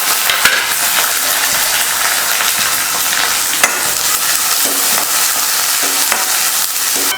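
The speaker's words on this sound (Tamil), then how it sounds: "வெங்காயம் போட்டு இந்த அளவுக்கு வதக்குனதுக்கப்புறம்" Shallots and garlic cloves being sautéed in a pan for Tamil kara kulambu, with a continuous close sizzle and frequent scraping and stirring strokes, no one speaking.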